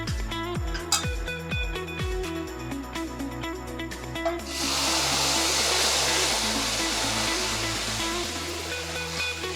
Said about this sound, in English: It's time to add our sugar water in it.